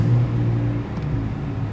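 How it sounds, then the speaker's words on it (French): A Porsche 911 engine idles close by with a steady low drone and a slight rise in revs partway through, alone without talk. "Petit bruit très sympa, bruit Porsche de toutes les manières."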